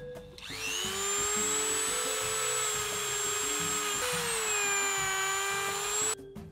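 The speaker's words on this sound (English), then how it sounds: "And finally, sand it down using my Dremel." A Dremel rotary tool sands steadily at close range with a high, constant motor whine, dips briefly in pitch midway, then spins down and stops, for an ant formicarium build.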